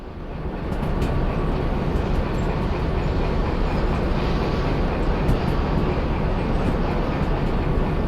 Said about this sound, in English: That was quite a long train.